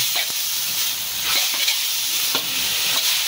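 Garlic and meat frying in a pan while cooking a bihon noodle dish, a steady close sizzle and hiss with occasional stirring scrapes throughout.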